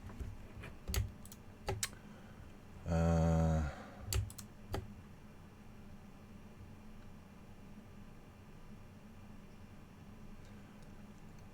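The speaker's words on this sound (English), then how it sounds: "this little project that I've got going on right now is it's going to make some noise when I start clicking buttons" Computer keyboard typing and button clicking during a small desk project: a handful of sharp, close clicks and a short dense burst of keystrokes, then a long stretch of quiet room hum.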